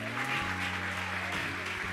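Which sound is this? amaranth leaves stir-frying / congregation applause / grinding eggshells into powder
congregation applause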